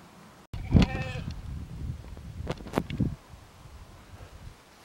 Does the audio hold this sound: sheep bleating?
yes